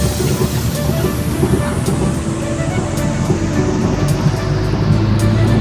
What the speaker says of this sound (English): enjoy this special jeepney ride